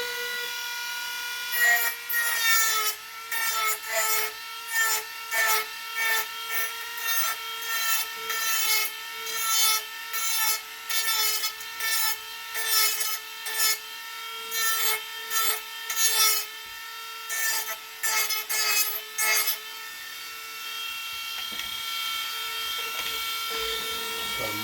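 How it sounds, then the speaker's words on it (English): Sanding drum on a rotary tool whines steadily while a plastic RC car steering part is pressed against it in rapid repeated grinding passes, close and loud, then the motor runs on alone at the end. "Just a sanding drum."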